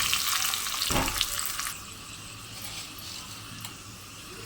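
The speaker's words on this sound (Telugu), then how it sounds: "తాలింపు వేస్తున్నాను. కొంచెం నూనె వేద్దాం." Mustard seeds, cumin, curry leaves and onions crackle and sizzle in hot oil and ghee, loud at first with a sharp burst of spattering, then settling into a softer steady fizz.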